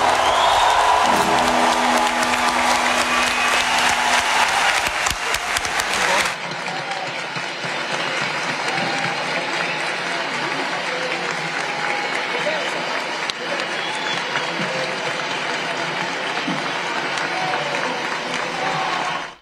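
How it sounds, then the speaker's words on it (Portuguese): Loud, sustained applause from a large crowd fills a law faculty hall at a reading of a letter for democracy, continuing steadily with scattered cheers after an opening stretch of speech. "Muitos aplausos você viu aí nesse momento importante"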